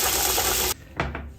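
Running water rinses rice in a bowl for homemade sushi, a loud gushing stream that stops abruptly, followed by a couple of brief splashes and sloshes.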